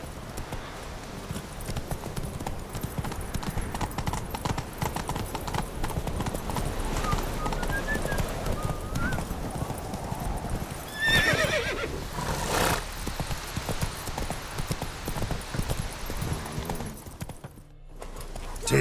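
A horse gallops with steady, rhythmic hoofbeats and neighs loudly in The Witcher 3, the clip-clop continuing for a long stretch over game ambience.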